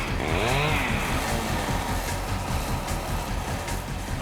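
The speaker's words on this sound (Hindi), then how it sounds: "हम तुम्हें कुछ बाइक्स की आवाजें सुनाएंगे।" A recorded motorcycle engine revs high and buzzy, a sharp rising whine at the start that settles into a steady, rough, rapidly pulsing drone, loud and close throughout.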